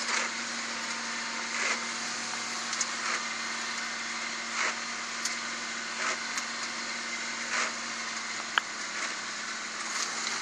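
A Kubota side-by-side utility vehicle drones steadily on a bumpy ride through melting snow in early maple syrup season, its engine hum constant beneath periodic rattles and jolts.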